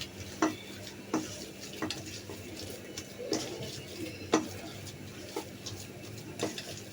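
Mashed pangas fish being mixed with green chillies in a bowl, with soft irregular knocks and clinks every second or so over a low steady background hum.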